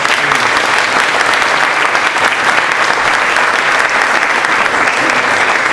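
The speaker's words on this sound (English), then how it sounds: "Can we have a round of applause?" Steady applause from a conference audience for a panel speaker, a dense wash of many hands clapping at even loudness throughout, with no voices over it.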